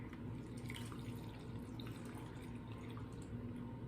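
Dill-flavoured brine water being poured back into a jar of fermenting cucumbers and green beans, a steady close splashing trickle of liquid running without pause.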